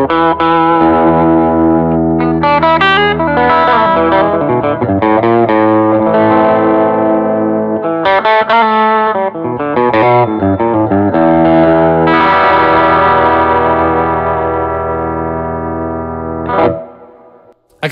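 Baldacci solidbody electric guitar with a bridge pickup, played through effects units that add distortion, chorus and echo, giving a loud, sustained run of chords and notes for about seventeen seconds before it stops abruptly.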